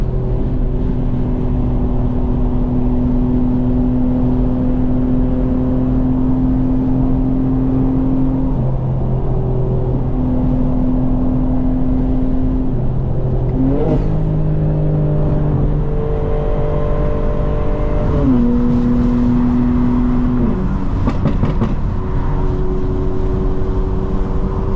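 A tuned Stage 2 2025 BMW M4 Competition xDrive engine revs and settles into a loud, steady drone, with bursts of exhaust burbles and pops as it shifts and lifts off, no voices.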